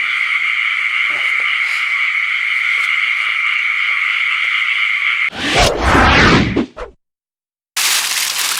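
Frogs croak at a pond in a continuous, steady trilling chorus that runs alone for several seconds before a loud rustling burst, a brief silence, then the croaking returns.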